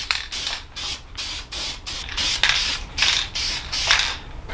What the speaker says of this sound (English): the two things I've learned about spray painting